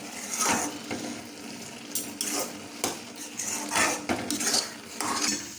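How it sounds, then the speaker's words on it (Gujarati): A spoon stirs sugar into carrot halwa in a metal pan, giving repeated clinks and scrapes against the pan at an uneven rhythm, close and clear, with no talking. "ખાંડ નાખીને તેને મિક્સ કરી દઈએ બરાબર મિક્સ કરીશું"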